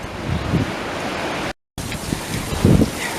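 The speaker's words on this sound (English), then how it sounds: "Real windy, another dust storm." Strong wind gusts during a dust storm roar steadily across the microphone, a loud broadband rush with heavier buffeting pulses and a brief dropout in the middle.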